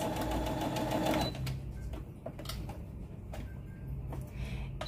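A Brother Innovis A16 sewing machine runs close by in a steady, dense mechanical whir, then settles into lighter, softer ticking and stitching sounds for the remainder.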